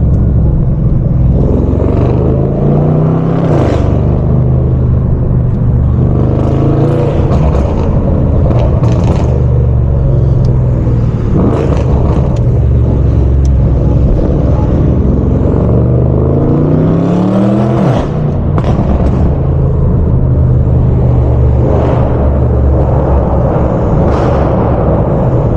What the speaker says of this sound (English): the turbo sound crazy, incredible